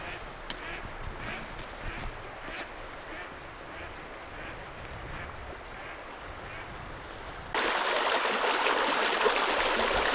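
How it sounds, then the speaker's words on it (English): Snowmelt-swollen stream on a winter trail in bear country, a steady broadband rush of flowing water that grows noticeably louder and closer partway through, with no talk over it. "So we just had to cross the stream."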